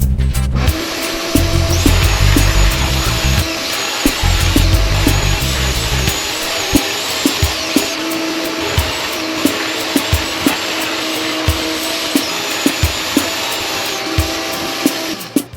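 Power router trimming the edges of a wooden box, a loud sustained high whine with a low rumble at first, then repeated sharp cutting bursts at a regular pace, close up with no talking.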